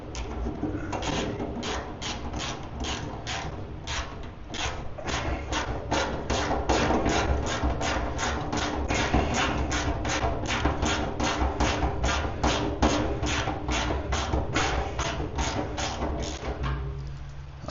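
A ratchet wrench tightening a nut on a powder coating oven build, a long, steady run of evenly spaced sharp clicks, close and loud, continuing for many seconds without speech.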